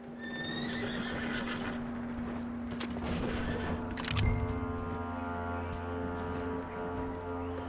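A horse in the video game Rust whinnies with a rising call, then its hooves clip-clop alongside a steady low in-game hum, with a sharper burst near the middle; no one speaks.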